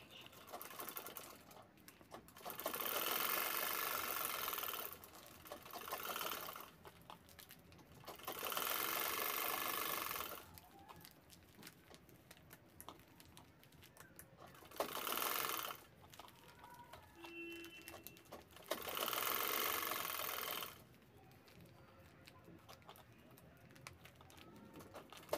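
A sewing machine stitches a sling bag in several bursts of fast rattling whir lasting a few seconds each, separated by quieter pauses with small handling sounds.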